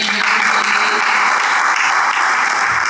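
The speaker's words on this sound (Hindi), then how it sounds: "ताली बजा दीजिए।" Audience at a school Republic Day function clapping, a loud, dense, sustained round of applause from a large crowd filling the whole stretch without pause.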